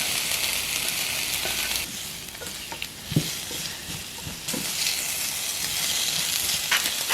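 Sliced onions dropped into oil in a heated pan, a steady hissing sizzle with intermittent clicks and utensil taps, briefly quieter in the middle before the loud frying hiss returns.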